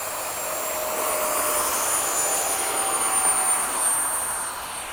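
Two 70mm electric ducted fan RC jets, an FMS F/A-18 and an E-flite F-16, flying in formation, a steady high-pitched whining rush that swells and fades slightly at a moderate distance.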